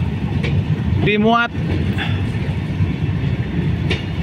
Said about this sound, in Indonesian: lokomotif Watermelon DF4B menarik rangkaian yang sangat panjang ini, lebih dari 500 meter